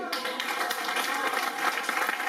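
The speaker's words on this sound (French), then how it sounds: "On peut les applaudir." An audience at a Latin concert in Varennes applauds the performers in a lively, close, crackling burst of clapping, steady and bright throughout.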